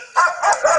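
A dog during an attack gives three short, close, loud yelping bark-like bursts in under a second.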